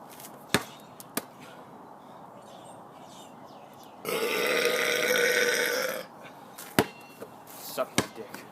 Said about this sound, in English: Now I have to do 3 burps.